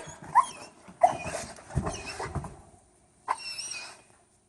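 A police K9 dog in training gives several sharp barks and whimpering yips in short bursts, close by, with pauses between them.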